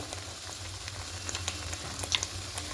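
Chicken with turmeric and Kashmiri chili powder frying in oil, giving a quiet, steady sizzle with small crackles and pops close by, and no talking.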